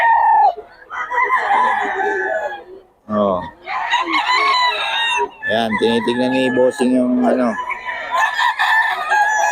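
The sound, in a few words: roosters crowing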